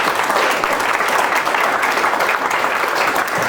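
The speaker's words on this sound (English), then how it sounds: "So will you give Dan a really big round of applause?" A lecture audience applauds steadily after a talk on cryptography for a humanist society, a dense, continuous wash of clapping hands that holds at a loud, even level throughout with no voices.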